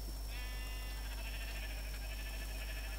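A Minecraft sheep bleats once, a short wavering tone over a steady low hum and background noise, fairly faint.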